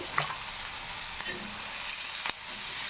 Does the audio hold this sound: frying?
yes